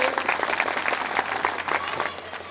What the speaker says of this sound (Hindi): जोरदार तालियां हो जाए इनके स्वागत के लिए।